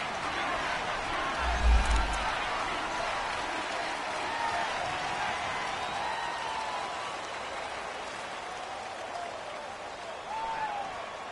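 A stadium crowd at Arrowhead roars steadily in a PS4 football game on third and goal, a broad continuous wash of cheering and noise with a low thump near the start.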